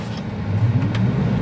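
Tesla Model Y Performance accelerating hard from a stop, a steady rising motor and road rumble heard from inside, building slightly in loudness over a moment with no talk.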